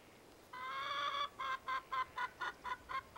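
Chickens clucking in a lively burst: one long sustained cackle followed by a quick run of about eight short, evenly spaced clucks, close and clear with no talking.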